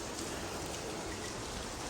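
Steady rain falls in a broad, even hiss with no breaks, loud and close throughout the stretch, easing to a lighter shower, with no voices present.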